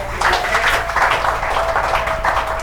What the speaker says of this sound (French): Je vous invite à l'applaudir encore une fois.